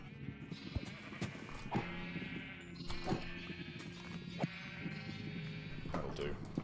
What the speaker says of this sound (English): these guys are normal coloured sheep